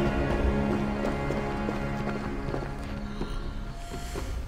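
Horse hooves clip-clopping at a run in Assassin's Creed Valhalla, a steady rhythmic thudding over a continuous game soundscape of low hum and ambience, moderately loud, with no voices.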